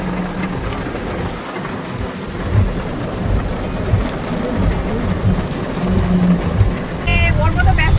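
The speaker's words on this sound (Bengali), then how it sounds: "এত জোর বৃষ্টি পড়ছে গাড়ি টানতেই পারছে না" Heavy rain pounds a car crawling slowly along a road on a Kolkata to Maithon trip, a dense steady wash with low road rumble and occasional thumps, fairly loud throughout.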